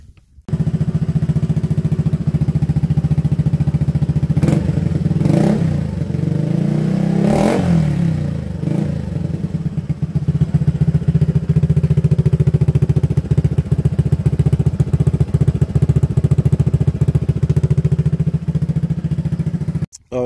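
Honda Forza scooter fitted with an aftermarket Krapowish exhaust, its engine droning steadily up close, with a few revving surges and clattering passes midway.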